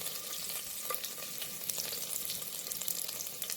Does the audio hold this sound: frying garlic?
yes